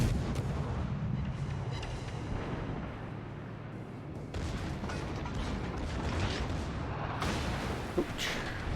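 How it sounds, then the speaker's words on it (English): Secondary battery guns on a warship in World of Warships keep firing in a dense, rolling stream of booms and blasts, loud and continuous, with no voice over them. "His secondary batteries are starting to shoot at me."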